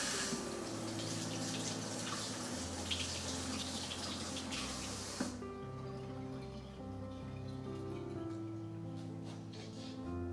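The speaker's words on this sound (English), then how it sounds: "we are going to rinse it under hot water" Hot tap water runs steadily over a strawberry ice block mould in a kitchen sink, a full splashing rush that drops to a quieter trickle with faint clinks partway through, no voices.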